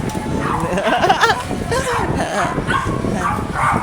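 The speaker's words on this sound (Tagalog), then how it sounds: "pinapakain na natin ang aso natin" Dogs yip, whimper and give short barks close by, overlapping in an excited jumble with a voice talking alongside.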